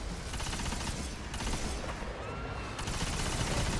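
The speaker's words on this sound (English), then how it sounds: "Arc burn explosion every single time." Dense, continuous gunfire and arc burn explosions from the video game Destiny, loud and unbroken, with rapid overlapping shots and blasts filling the whole stretch.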